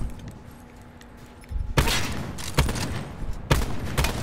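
Sniper rifle fire in a video game match: quiet game ambience at first, then a sudden loud burst of noise with several sharp shot cracks in the second half.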